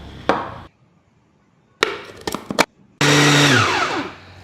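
A motorized food chopper mixing chicken meat, egg and ice whirs in short bursts, then runs steadily with a loud buzzing hum that gradually drops in pitch.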